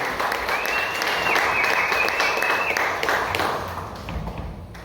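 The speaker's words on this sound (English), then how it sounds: "So let's give a round of applause." Applause from a small audience at a Democratic club happy hour, a steady patter of clapping that holds for a few seconds, then gradually thins and softens.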